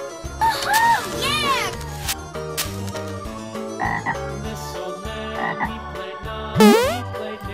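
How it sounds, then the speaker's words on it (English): A green frog croaks in a bright toy-style recording for children, with repeated croaks over a busy music bed; a louder croak stands out near the end. "Green frog."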